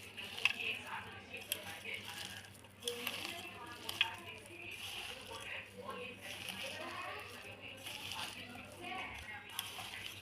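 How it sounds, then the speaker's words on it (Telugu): Mango and sesame pickle (mamidikaya nuvvula pachadi) is mixed by hand, giving soft, wet squishing and stirring sounds with small clicks, fairly quiet and continuous with a voice faintly present. "ఇలా చెయ్యితో కలిపితే మంచిగా కలుపుకుంటారండి ముక్కలకి."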